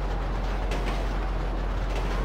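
Train in the GTA 5 video game, a steady loud rumble of rolling rail wagons that holds through the whole short stretch with no voices over it.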